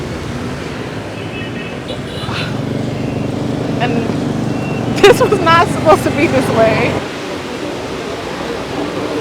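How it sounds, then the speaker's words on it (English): Heavy tropical rain pours steadily in Nha Trang, Vietnam, a loud constant hiss throughout, with someone talking over it partway through. "It looked like it was sprinkling outside, and it's pouring raining."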